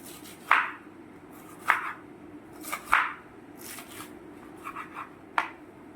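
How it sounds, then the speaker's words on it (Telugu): Knife chopping raw jackfruit into medium pieces for a pot biryani, giving about five sharp, separate cuts at uneven intervals over a quiet kitchen background, with no talking. "ఈ చెక్కు తీసిన తర్వాత ఇవి ముక్కలు కూడా కట్ చేసేసుకుందాము"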